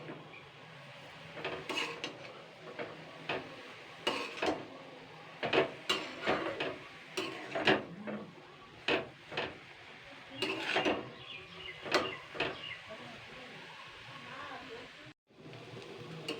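Raw papaya with salt, sugar and a little turmeric stirred in a pan over a medium flame, giving a run of light scraping and clinking spatula strokes against the metal at an irregular pace, fairly faint.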